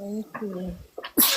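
A single sharp sneeze bursts out at the end, loud and close, just after a person speaks briefly in a live talk show setting.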